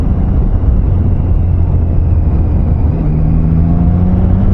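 A car passes on a rural road heading into gravel, its engine a steady loud drone close by, with a rising tone toward the end as it goes past.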